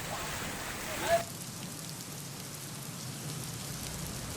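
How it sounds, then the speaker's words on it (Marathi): Heavy rain falls steadily across Raigad during a flood-warning downpour, a continuous broadband hiss holding level throughout, with a brief louder burst near the start. "रायगडमध्ये जोरदार पाऊस बरसतो आहे"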